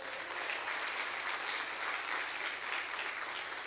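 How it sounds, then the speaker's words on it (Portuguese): A church congregation applauds steadily during a Portuguese-language sermon, a dense, even wash of clapping from many hands at moderate distance, with no voices over it. "Aplauda o Senhor por isso"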